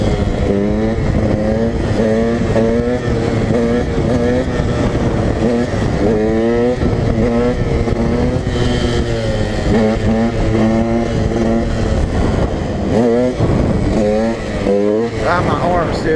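A dirt bike engine drones and revs with constantly shifting pitch while it rides along a flooded, steeply crowned road, loud and close throughout, with a rider's voice talking over it at times.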